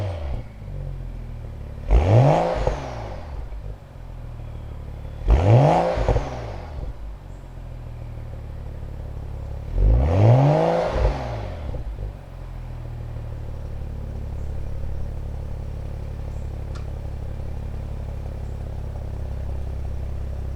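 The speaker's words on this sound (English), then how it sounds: "This is what the Dinan free-flow axle-back exhaust sounds like when revved to" BMW 535i with a Dinan free-flow axle-back exhaust blipped three times to around 3,000 RPM, each rev a loud rising-then-falling burst over a low steady idle rumble, the gaps lengthening between blips.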